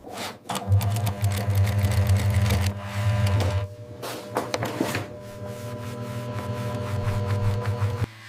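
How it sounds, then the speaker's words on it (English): A sewing machine stitching leather pieces for wallets and belts runs in steady bursts with a loud low motor hum and rapid needle clatter, pausing briefly in the middle, with no voices. "We carefully stitch each leather piece, focusing on precision and durability."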